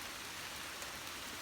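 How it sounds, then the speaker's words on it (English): Steady rain falls on a primitive shelter on an island, a dense, continuous hiss of drops close by with no talk over it. "rain's kind of lingering in there a little bit"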